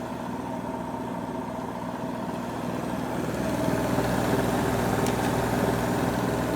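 An AEG Silent System plus 86850 washing machine on its spin cycle gives a steady, close whirring hum that grows slightly louder and fuller partway through.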